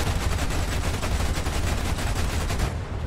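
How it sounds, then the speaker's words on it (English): Dense anti-aircraft gunfire strikes a plane in a multiplayer air-combat video game, a continuous loud rattle of rapid bursts and impacts over steady engine roar, with no voices. "I think someone just got lucky with an anti-air shot"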